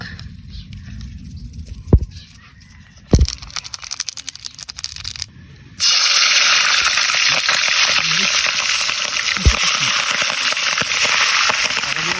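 Seasoned pork belly deep-frying in hot oil, starting with a few sharp pops and crackles and then breaking into a loud, dense, continuous sizzle that lasts to the end.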